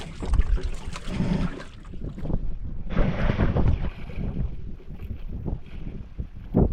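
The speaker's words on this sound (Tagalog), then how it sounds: "Hangin." Gusty wind buffets the microphone in uneven rushes and rumbles, rising and falling outdoors, probably near water.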